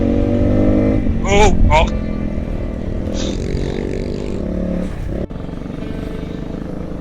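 Honda trail motorcycles overtaking on a dirt trail ride: steady nearby engine drone with rising revving bursts as one bike passes, a brief scrape near the end, and a voice briefly exclaiming.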